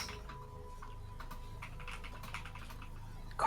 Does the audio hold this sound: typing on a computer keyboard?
yes